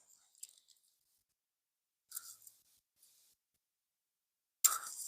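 Scissors snip larch bonsai branches in a few sparse, quiet clicks, separated by silence, with one sharper cut near the end.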